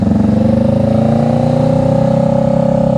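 Motorcycle engine held at steady raised revs during slow-speed riding practice, a continuous close droning hum with a rhythmic pulse that stays level throughout, no talk over it.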